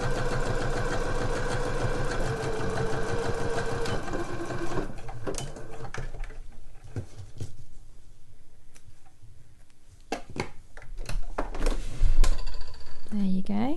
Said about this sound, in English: it's sewing through a few layers there